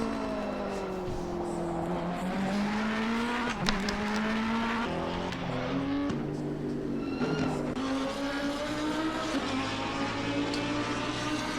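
Race cars from Assetto Corsa Competizione at Bathurst roar continuously as one car overtakes another, engine notes rising and falling through gear changes with a brief tire squeal, loud and steady throughout.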